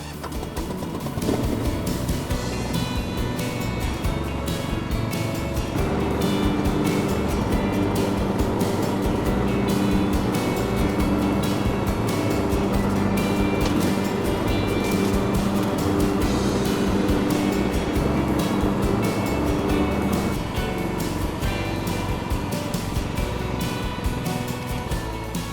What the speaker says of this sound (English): I'm just going to show you it mowing in the side discharge mode